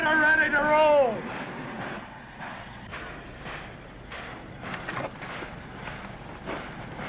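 A train starting to pull away, opening with a loud whistle blast and then steady rhythmic chugging as it gets rolling, with voices over the noise.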